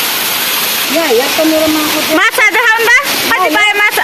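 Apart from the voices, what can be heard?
waterfall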